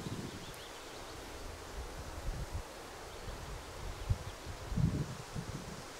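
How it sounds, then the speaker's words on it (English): Wind blowing outdoors at a .22 rifle shooting range, a steady airy rush with gusty low buffeting against the microphone and rustling, with no talk. "Man, it's windy."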